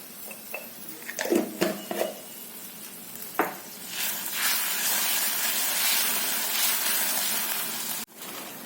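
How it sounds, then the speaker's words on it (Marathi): Water comes to a boil in an iron kadhai with turmeric and asafoetida, heard close up as a few clinks and stirring knocks, then a steady bubbling sizzle and hiss that cuts off abruptly near the end. "पाण्याला आता उकळी येऊ लागली आहे"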